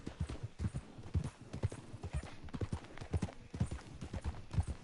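Horse hooves clip-clop at a steady walking rhythm in the video game Red Dead Redemption 2, with close, distinct repeated thuds and little else over them.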